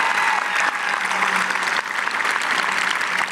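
Audience applause at a high school graduation ceremony, steady dense clapping from a large crowd filling the hall, loud and continuous with a faint voice audible underneath.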